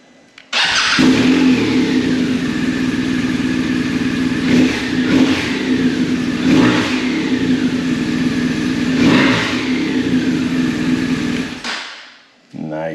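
A BMW R 1250 RS motorcycle with a newly installed Yuasa battery cranks and fires up, then idles with a steady mechanical beat broken by three or four sharp throttle revs before cutting off.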